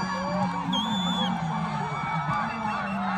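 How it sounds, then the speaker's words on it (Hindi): Spectators at a cricket semifinal in Gulberg, DHA Phase 3, yell, whoop and cheer as a steady crowd roar, with a shrill whistle-like cry rising above the din. "साथ ही इनकी चीखों की आवाज आ रही है, ये काफी ज्यादा शोर मचाया जा रहा है"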